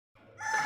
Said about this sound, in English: we've got a rooster out there with the chickens